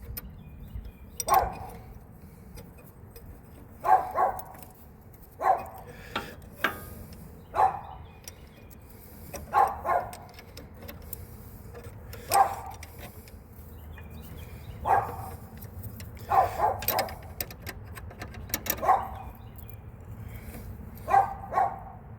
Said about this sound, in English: I love being shouted at by a dog in my own yard.